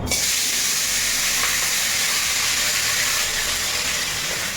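Crab pieces fry in hot oil at a seaside town, making a loud, unbroken, close hiss of sizzling that holds steady throughout.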